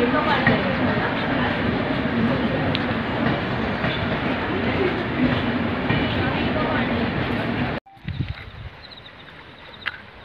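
A crowded passenger train rolls loudly and steadily through Palasdari station, a dense rumble and clatter of wagons that cuts off abruptly near the end, leaving quieter background sounds with people talking.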